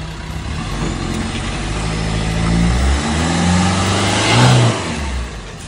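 A Maruti Brezza with AMT gearbox revs and strains while towing an S-Presso, a loud close engine drone rising and falling with a brief pitch swell near the end, no talk.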